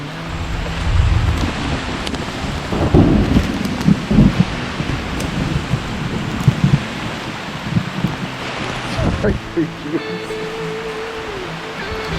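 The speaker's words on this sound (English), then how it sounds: "It is pouring." Heavy pouring rain during a storm on a mountain mule ride, a dense steady roar with low rumbles and wind buffeting the microphone, loud and continuous throughout.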